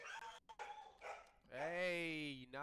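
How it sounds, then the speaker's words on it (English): A dog barks and whimpers in short yips close to the microphone during online game play, with a voice mixed in. "Hey, knock it off with the doggy."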